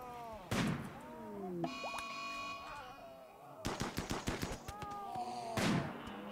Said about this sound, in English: Marina, do one of your miracle shots.